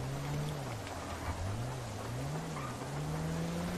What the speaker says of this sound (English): I think it's always raining on this mission.